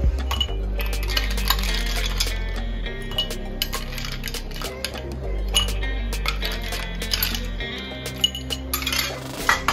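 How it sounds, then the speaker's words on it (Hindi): Ice cubes clink and rattle into a glass of aam panna, a green mango summer drink, as a run of bright clinks and knocks over a low steady hum. "इसमें थोड़ा सा आइस डालेंगे।"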